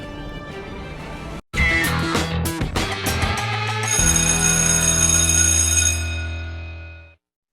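Doorbell-style chime jingle opening a show, bright ringing bell tones over a musical sting that swell, sustain and fade out, with no talking.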